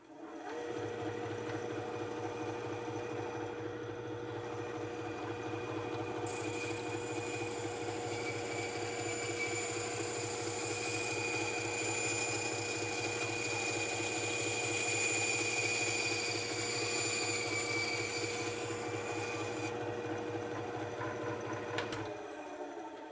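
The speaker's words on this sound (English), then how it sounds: "I'll use the vertical bandsaw for this one" A vertical bandsaw hums steadily as it starts, then cuts through an intake pipe with a bright, sustained rasp for most of the run before it winds down. The sound is moderately loud and close, and no one speaks.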